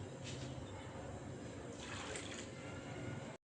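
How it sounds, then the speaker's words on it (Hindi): Water pours into a cooking pot for chicken shami kabab, a steady rushing splash lasting a few seconds at moderate closeness before stopping abruptly. "अब हम इसमें 3 कप पानी के ऐड करेंगे।"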